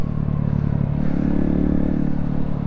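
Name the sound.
Honda Grom motorcycle riding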